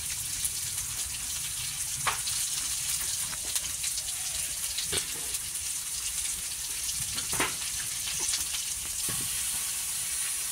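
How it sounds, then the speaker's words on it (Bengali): Onions and spices fry for a beef tripe curry, a continuous close sizzle with scattered crackles and occasional stirring clinks, no talking. "পেঁয়াজ কিন্তু দেখতে পাচ্ছেন একদম ফ্রাই হয়ে গেছে"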